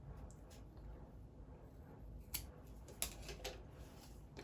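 Scissors snip through fabric while a cloth manicure bag is being sewn, giving a few quiet, separate cuts over a soft background hiss with no one talking.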